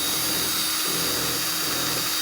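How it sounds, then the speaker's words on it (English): Power drill boring a pilot hole into wood before a screw is set, a steady high-pitched whine running continuously for a couple of seconds. "drill a hole first, then I'd set my screw"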